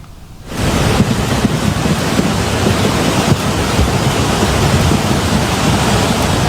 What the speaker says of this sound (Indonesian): Arus air yang membesar terlihat menghanyutkan potongan kayu dan batu-batu berukuran besar.